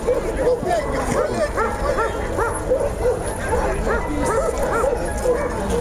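Yakutian Laika dogs yip and bark in short, repeated bursts at a dog show ring, fairly close, with a continuous crowd murmur and people talking beneath the calls throughout.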